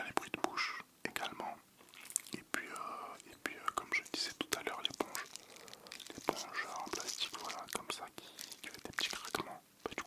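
Close, quiet ASMR mouth sounds with wet clicks, smacks and soft chewing-like pops scattered in an irregular rhythm, mixed with breathy whispering throughout.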